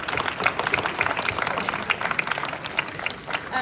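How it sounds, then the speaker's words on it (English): Audience applause for a woman being honoured, a dense steady patter of many hands clapping for several seconds, close and fairly loud, with no voices standing out. "Everybody give her a round of applause"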